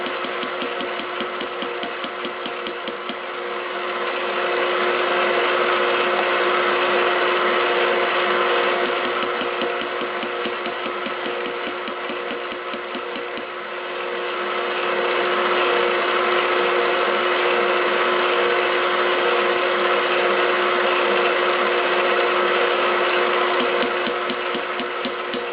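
Electric mixer whirring steadily through cheesecake batter with sour cream, a continuous close motor drone with slight swells in loudness and no voices.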